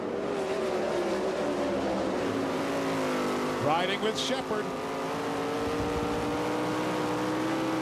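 Stock race cars of the World of Outlaws series roar around the Bristol track at night, a sustained loud engine drone with shifting pitch through the corners, while a voice talks over it.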